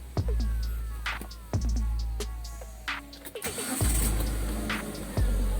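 A Proton Gen 2 car engine cranks with a starter whir, catches and fires up, then settles into a steady idle, loud and close.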